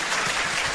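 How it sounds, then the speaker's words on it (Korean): A brief burst of audience applause, dense steady clapping from many hands. "저희가 이제 박수 한번 하시죠"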